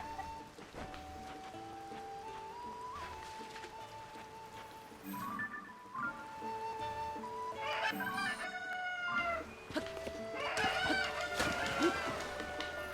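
A cuckoo chicken in Zelda: Tears of the Kingdom clucks and crows repeatedly, its warbling calls rising over a steady background game tone, close and moderately loud.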